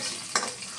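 Garlic fries in a pan with a continuous sizzle, and a single sharp scrape of stirring cuts in midway.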